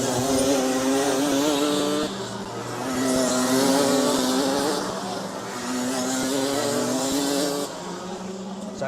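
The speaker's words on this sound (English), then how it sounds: "He'll hear the engine. He'll hear the revs." Racing kart engines rev hard at a Garden City Championships race, a buzzing high-pitched whine rising and falling in surges as karts pass nearby, loud and continuous with no talk.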